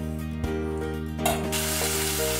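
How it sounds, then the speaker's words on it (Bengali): Hilsa fish frying in hot oil, a steady close sizzle and crackle that swells into a brighter, hissier sputter partway through as the pieces are turned, with no talking. "এরকম একটু হালকা করে মাছটা আমি ভেজে নিচ্ছি।"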